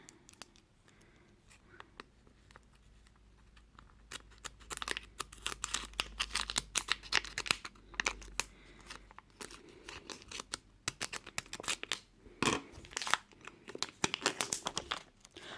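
Scissors cutting into the plastic packaging of a Zuru Smashers Dino Ice Age Blizzard Dactyl toy egg, heard up close: crinkling, tearing and snipping that start sparse and grow into a busy run of sharp crackles and cuts.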